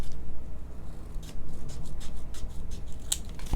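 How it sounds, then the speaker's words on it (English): Scissors snip through paper in a run of quick, crisp cuts, close and fairly loud, ending with a sharp click. "So I may take my scissors and just finish that."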